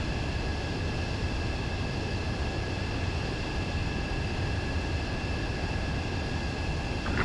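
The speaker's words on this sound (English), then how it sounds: "H2, you are cleared for landing." Fighter jet in Ace Combat 7 on final approach to a runway, a steady broad engine roar with a high whine, loud and constant throughout with no voices.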